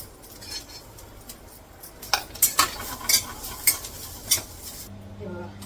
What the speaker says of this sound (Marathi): पहिलं मी हे सुकं खोबरं जे खिचून घेतले ते भाजून घेते याला तेल नाही घालत आहे